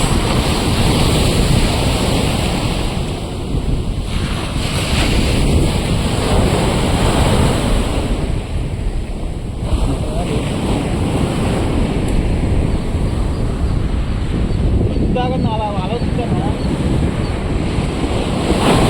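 Ocean waves breaking on a beach in Visakhapatnam, steady loud surf wash mixed with strong wind buffeting the microphone, continuous throughout with no talk.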